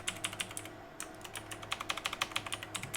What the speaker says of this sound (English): if you hear keyboard spam, I do apologize